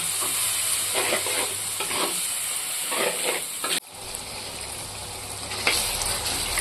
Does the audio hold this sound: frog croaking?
no